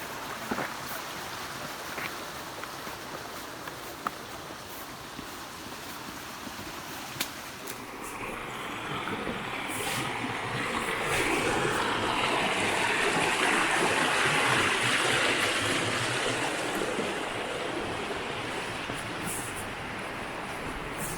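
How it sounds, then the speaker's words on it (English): Mountain stream on the Appalachian Trail near Springer Mountain flowing steadily, a broad rushing wash that swells louder partway through, close and continuous with a few small knocks. "Yeah, just getting some more water."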